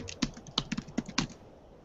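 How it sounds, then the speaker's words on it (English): Someone types on a computer keyboard, giving a short burst of separate clacking keystrokes at an uneven pace, close and quiet, with no talk. "I'm going to type in group chat"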